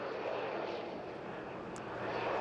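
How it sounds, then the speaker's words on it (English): Small jet engines on a tiny-cockpit display aircraft at the Bournemouth Air Festival roar steadily as power is eased on after a knife-edge pass, a loud continuous broadband rush with no break. "just sliding the power on those little jet engines to give that lift all the way back up with a minimum of effort"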